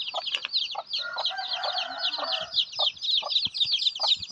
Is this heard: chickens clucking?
yes